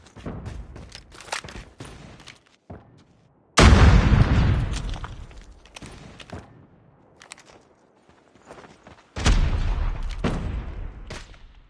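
Two heavy grenade blasts go off in Call of Duty Mobile during a search and destroy match, each a sudden loud boom that rumbles away, with scattered gunfire and footsteps around them.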